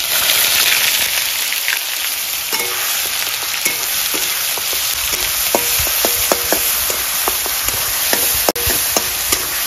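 Ground onion paste hits hot oil seasoned with whole garam masala in a pan, setting off a loud, continuous close sizzle with scattered crackles and pops that never lets up.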